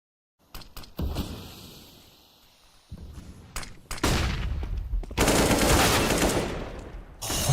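Counter-Strike (CSGO) gameplay from an esports match, with flashbang grenades popping amid loud bursts of gunfire, thuds and clatter building into a dense, sustained roar.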